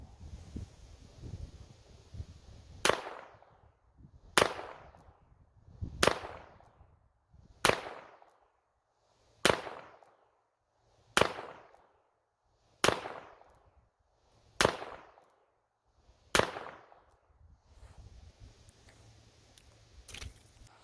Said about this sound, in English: again firing 9 rounds from the offhand position in double action this time